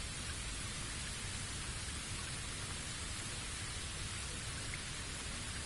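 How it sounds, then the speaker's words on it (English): Steady rain in the Bleach video game on PS5, a constant even hiss of falling water that holds unchanged throughout with no voices, ending on a brief louder knock. "Looks like the rain."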